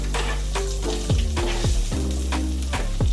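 Pasta ingredients are stirred around in a sizzling pan for a baked penne-ziti dish, a steady loud fry hiss broken by several scraping utensil strokes and clinks against the pan.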